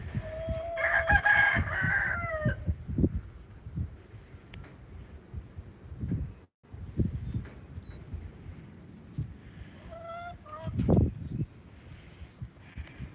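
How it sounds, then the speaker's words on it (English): Free-range chickens on an open field cluck softly and scratch about, with a rooster crowing clearly twice, once early and once near the end, amid quiet outdoor background. "most of the chickens are out in that field too, exploring"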